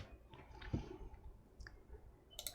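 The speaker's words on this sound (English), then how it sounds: "Once again, I'm gonna type some dummy content." Quiet scattered clicks of typing on a computer keyboard, a few separate keystrokes heard alone in a calm room.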